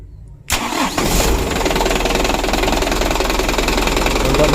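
A used car engine cranks and catches, then settles into a loud, steady, slightly knocking idle that carries on close by with no talking.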